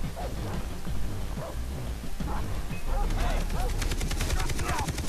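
Dog barking in the video game Far Cry 3, several short barks over a dense, noisy game soundscape with rain-like hiss, rumbles and gunfire-like bursts, with a voice talking over it.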